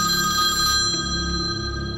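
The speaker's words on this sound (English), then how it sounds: "The trill of the phone broke through the peace." A telephone trills with a steady electronic ring, close and fairly loud, its tone held throughout with no talk.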